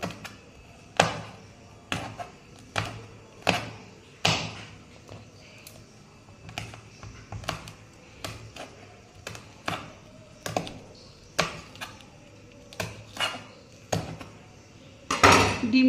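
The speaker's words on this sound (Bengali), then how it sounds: "এবার লঙ্কাটা কুচিয়ে নিতে হবে।" A knife chops chilli on a board in sharp, close knocks that come one by one at a fairly regular pace, with a louder cluster of knocks at the end.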